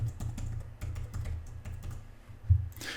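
Password being typed on a computer keyboard, a quiet, close run of soft, uneven key taps with one slightly harder press.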